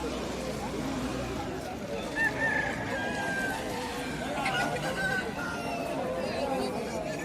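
An Aseel fighter rooster crows at a busy outdoor cock market in Odisha, a couple of short crowing calls rising above a steady crowd babble, with people talking nearby.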